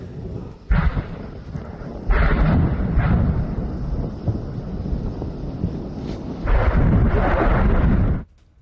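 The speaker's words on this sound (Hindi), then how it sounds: "देखिए किस तरह से गोलान हाइट्स में इजराइल ने विस्फोट किया है।" Serial mine explosions in the Golan Heights in news footage, heard as a continuous roar of rumbling blasts with several louder bursts over about eight seconds, ending abruptly.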